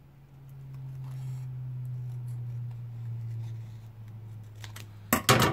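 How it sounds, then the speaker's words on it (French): Large scissors slicing through cardboard while making a ribbon bookmark, heard as a short burst of crisp, crunchy cuts near the end after a long stretch of steady low hum. "avec mes gros ciseaux sur le haut."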